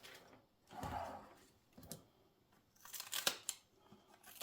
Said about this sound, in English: I'm going to trim off the stems.